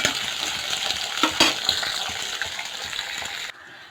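Sliced shallots, peeled garlic and curry leaves sauté in a pan for a kuzhambu, a loud continuous sizzle with stirring scrapes and a brief sharper clatter partway through before the sound drops away.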